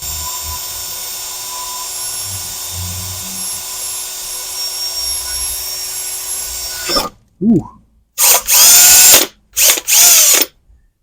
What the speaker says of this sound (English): just put a drill bit through here